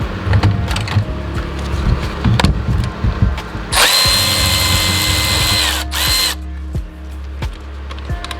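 A power drill or impact tool whirs in a sustained burst while removing cover bolts from an Audi/GTI 2.0 engine during a water pump job, set against a steady mechanical background with clicks and short spurts.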